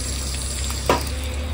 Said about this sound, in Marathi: पाणी ऍड करतो त्यात